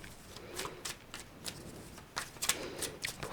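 Fortune-telling cards being shuffled by hand in a quiet room, a series of soft riffling bursts with brief pauses between them, close and fairly quiet.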